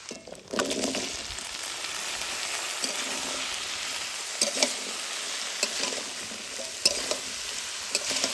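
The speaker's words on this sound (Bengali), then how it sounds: "ভালো করে নাড়ি চাড়ি নিব" Potatoes and banana leaf stalks with ginger paste sizzle steadily in a pan, stirred with a utensil that gives occasional sharp scrapes and taps over the constant frying hiss, with no voices.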